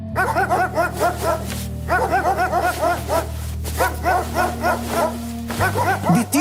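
A dog barks excitedly and nearly nonstop, with rapid clusters of loud yapping and whining barks close by, broken by brief pauses.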